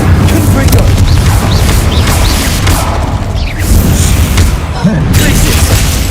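Confringo and Incendio spell blasts in the video game Hogwarts Legacy: a dense, loud barrage of booming, crackling magical impacts and whooshes that roll on continuously with no pause.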